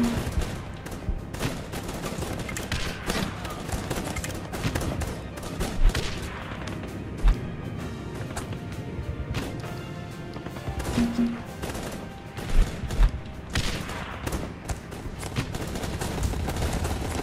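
Rapid gunfire from the video game Guns Up crackles in dense, continuous bursts with scattered louder booms, a busy sustained barrage with no speech.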